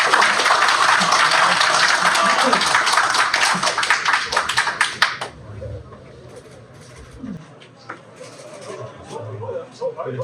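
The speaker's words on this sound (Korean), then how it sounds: "큰 박수로 맞아주십니다" A crowd at an election campaign office opening greets a speaker with loud, dense clapping for about five seconds. It then stops abruptly, leaving a quiet room with faint shuffling and murmurs.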